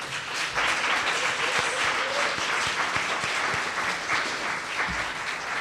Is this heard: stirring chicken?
no